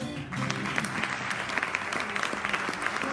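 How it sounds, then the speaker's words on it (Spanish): An audience applauding at an entrepreneurship talk, steady dense clapping of moderate loudness that keeps a continuous texture for a few seconds. "De nuevo venga el aplauso"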